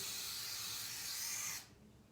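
A steady aerosol spray of brake and parts cleaner hisses continuously for about a second and a half, then cuts off abruptly, leaving quiet room tone.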